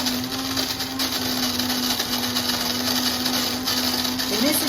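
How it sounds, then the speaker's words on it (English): A motorized grinder whirs continuously through coated coffee beans, a steady close mechanical drone with a faint rattle of beans and no marked change in pitch. "So let's get this coffee grinding."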